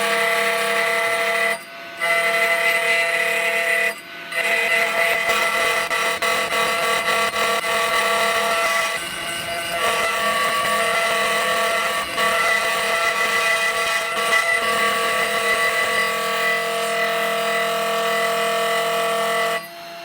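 A small homemade CNC lathe runs a cut at 70 rotations, a continuous tonal mechanical whine with buzzing motor harmonics, briefly dropping out a few times and fading toward the end.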